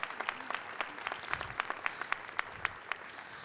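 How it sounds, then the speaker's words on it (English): A school district ceremony audience claps for Zoe, her parents and her teacher. The applause is fairly faint and distant, with scattered sharp claps standing out from a soft, steady patter. "Let's give Zoe another hand and also applaud her parents and her wonderful teacher"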